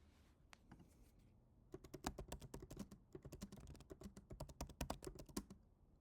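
Rapid typing on a computer keyboard, close and quiet, with a few isolated keystrokes followed by a steady, uneven run of clicks that continues with brief pauses and no speech.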